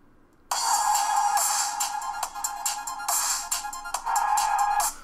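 Music tracks play through the small built-in speaker of an HTC Desire C phone's music player, starting after a brief silence and continuing bright, thin and steady to the end.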